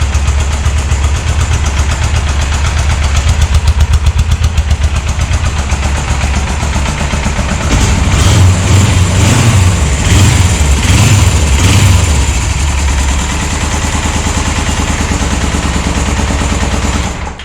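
A Suzuki GS 500 motorcycle engine runs steadily at idle, close and loud, with a slightly ticky mechanical note; the rhythm grows rougher and throatier in the middle before settling back to an even idle.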